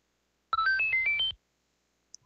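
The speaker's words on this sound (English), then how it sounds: "I meant to have notifications turned off for this, but here is." A short notification ringtone plays a quick rising run of bright electronic tones, loud and close, lasting under a second before cutting to silence with a faint click after.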